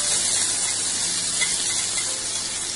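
Chopped onion sizzles in hot mustard oil with cumin and whole red chillies in a kadai, a loud, dense, continuous hiss close up with no voices.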